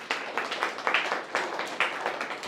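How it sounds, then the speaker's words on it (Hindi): An audience claps in bursty, rhythmic applause at a Buddhist gathering in Lakshmi Nagar, Amravati. The clapping is moderately loud and close, and no one speaks over it. "तालियां बजा सकते हैं।"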